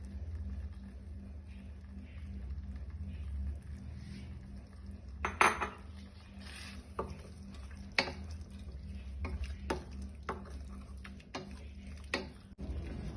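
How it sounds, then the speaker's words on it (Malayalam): Quiet clinks and scrapes of a spoon against a pot while curry is stirred after coconut milk goes in, a few sharper taps standing out over a low hum. "തേങ്ങാപ്പാൽ ഒഴിച്ച് വന്ന് ജസ്റ്റ് ഒന്ന് ഇളക്കി"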